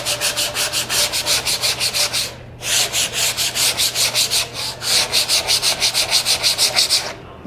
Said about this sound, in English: We're gonna go ahead and knock these corners down a little bit with this sandpaper.